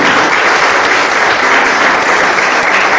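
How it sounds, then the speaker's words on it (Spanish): A church congregation applauds during a worship service, a loud, dense and sustained wave of clapping from many hands that holds steady for several seconds. "Denle fuerte palmas a Cristo."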